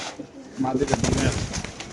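A racer pigeon gives a short, soft coo up close, lasting about a second, with people's voices around it.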